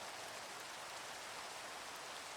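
Rain falls steadily in Minecraft, a constant soft hiss of dense drops that stays even throughout, with no other sounds.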